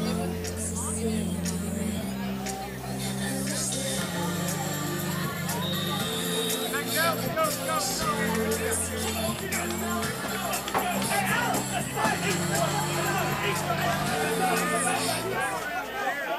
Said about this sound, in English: crowd is getting fired up here at Gales Harley Davidson